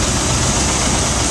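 A car engine idles steadily at about 700 RPM after its ignition timing was set to 10 degrees before top dead center. The idle is a close, loud, continuous rumble with no talking.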